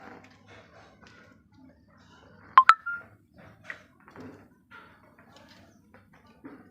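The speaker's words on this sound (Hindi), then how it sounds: "आपका फोन बज रहा है" A short double electronic phone ring chirps once in a doctor's clinic during a comedy sketch. It is brief and fairly clear over faint room noise and murmuring.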